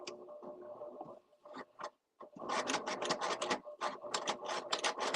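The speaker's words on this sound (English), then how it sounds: "So stitching the ditch, you just stitch right between the lining and the main fabric." A sewing machine stitches in the ditch along the seam between a lining and the main fabric of a thread catcher, a rapid mechanical whirring chatter in short and longer bursts, alone and fairly close.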